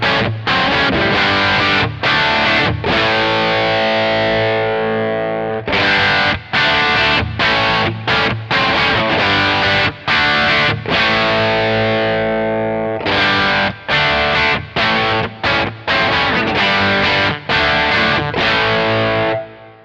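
Distorted electric guitar through a Kemper Profiler with drive settings, played in loud, chunky chord bursts and sustained crunchy chords separated by short gaps, full and saturated throughout.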